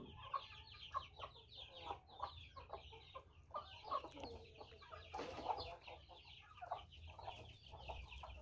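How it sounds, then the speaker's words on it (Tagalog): Chickens cluck repeatedly in quick, irregular calls close by, a flock moving about outdoors over a faint low background rumble. "lumapit na po yung manok"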